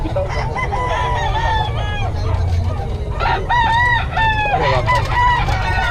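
Roosters crow loudly and repeatedly over steady clucking at a live chicken market, with people talking faintly in the background.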